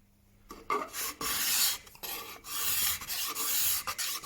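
A card scraper rasps across varnished oak in repeated close, loud strokes, each a dry scratchy scrape separated by brief pauses.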